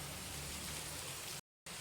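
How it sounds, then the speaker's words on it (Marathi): Heavy rain falling outside a window, a dense steady hiss of downpour heard from indoors with no voices, cut off by a brief total dropout before resuming. "आत्ता आमच्या इथे एवढा भरपूर सारा पाऊस चालू झाला आहे"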